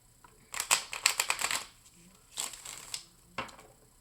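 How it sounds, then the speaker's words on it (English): Tarot cards, a Deviant Moon deck, being shuffled close up in quick riffling bursts, a long flurry followed by two shorter ones, with quiet pauses between. "let's shuffle up"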